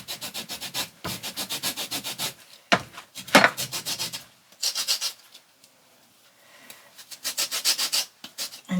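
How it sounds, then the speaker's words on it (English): An orange is scraped over a hand grater to collect zest, making rapid, rhythmic rasping strokes close by. The strokes come in fast runs, pause briefly in the middle, then resume. "you can see the orange zest actually collecting in our grater here"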